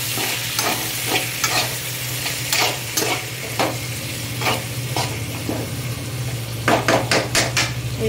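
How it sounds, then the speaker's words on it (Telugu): Onion, tomato, ginger and garlic stir-fried in a pan for a paneer butter masala gravy: steady close sizzling with repeated spoon scrapes and clinks against the pot, over a constant low hum, no talking. "ఆనియన్, టొమాటో, అల్లం వెల్లుల్లి కట్ చేసినవన్నీ వేసుకొని ఫ్రై చేసుకోవాలి గ్రేవీ కోసం"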